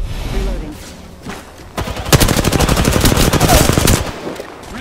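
Rapid automatic gunfire from the video game Apex Legends rattles in a dense, loud burst lasting a couple of seconds, following scattered single shots, with game voice lines over the fighting.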